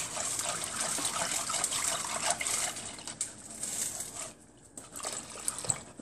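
Hot water gushes steadily into a pot, a continuous splashing pour with brief pauses toward the end.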